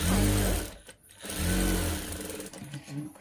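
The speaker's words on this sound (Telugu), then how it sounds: "అలాగే సారీ క్లాత్ కలిపి జాయింట్ చేసుకుంటున్నాను" Domestic sewing machine stitching saree cloth into a child's frock, a steady whirring run that pauses briefly and starts again, close and clear, with someone speaking between runs.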